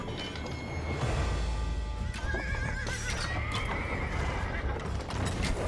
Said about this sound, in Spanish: vamos a sacar un par de caballos de exploración